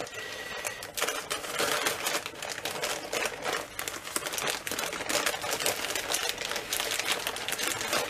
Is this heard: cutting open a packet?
yes